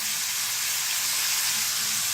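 Steady, even sizzle of cauliflower frying in hot oil, a continuous bright hiss close up with no pauses and no voices.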